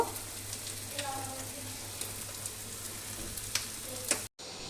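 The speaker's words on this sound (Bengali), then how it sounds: "একই প্রসেসে আমি আরও দুটো ব্রেড আমি এখানে ভেজে নেব" Bread slices sizzle steadily as they fry in hot oil in a pan for a sweet bread dessert, a continuous crackling hiss with faint stirring clicks, cutting off abruptly near the end.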